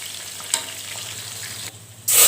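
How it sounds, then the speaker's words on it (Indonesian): Tofu and tempeh fry in hot oil with a steady soft sizzle, close by, ending in a louder surge of crackling. "Nanti tahu dan tempenya kita goreng terlebih dahulu ya."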